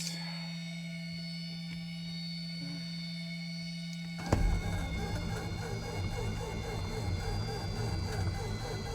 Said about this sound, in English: I have a feeling it's going to crank and not start